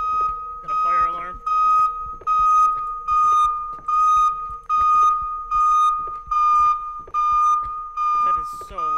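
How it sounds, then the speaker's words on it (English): Fire alarm ringing in the horror video game Minds Eyes, a loud, steady electronic tone pulsing in repeated bursts about once per second throughout, with a brief spoken interjection early on. "Got a fire alarm."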